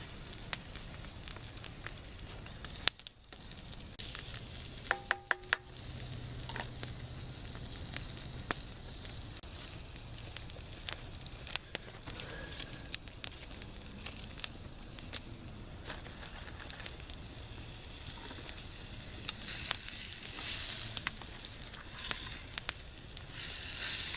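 Sausage and hamburger cooking over an outdoor campfire, a faint steady sizzle with scattered crackles and pops from the fire continuing throughout, with no talking.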